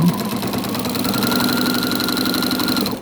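A sewing machine fitted with a walking foot stitches along a quilt seam, a loud, steady mechanical hum with a fast rhythmic motor whir running continuously and close up.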